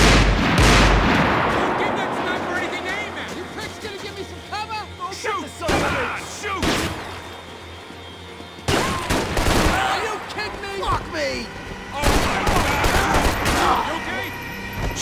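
Repeated gunfire and shooting bursts in Max Payne 3, loud and dense in clustered volleys across a firefight, with a voice shouting over the shots.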